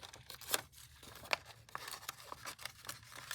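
Small scissors snip paper in a few quick, sharp cuts with soft rustling between, close and fairly quiet.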